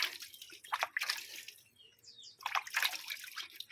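A pouch is rubbed and washed with water in a washroom, giving close, splashy bursts of wet scrubbing separated by a short quiet gap.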